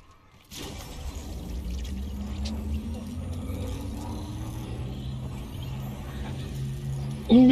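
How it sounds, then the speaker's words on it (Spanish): In a video game where players punch opponents with nitro fists, a car approaches with a steady, low engine drone that holds for several seconds, then ends with a sharp burst. "Viene, el coche viene."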